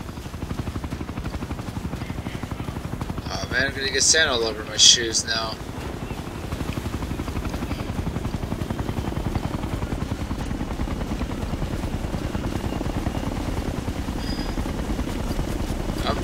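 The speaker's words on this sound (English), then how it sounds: "There's a chopper." Helicopter in the video game Ghost Recon, a steady rotor chop and engine drone holding throughout, with someone speaking briefly over it near the start.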